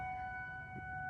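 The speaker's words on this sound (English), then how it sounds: "what you heard there was the tornado drill for Nebraska and Iowa." A civil defense siren blares during a tornado drill in Nebraska and Iowa, near a YMCA, holding a steady tone at a distance over a low background rumble, with no voices.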